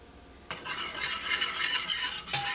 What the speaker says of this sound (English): that's why you should whisk it well and add your flour in gradually, working out all the lumps as you go